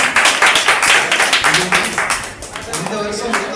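At a children and youth church program, a group claps in a quick, steady rhythm close by while voices speak and sing over the beat.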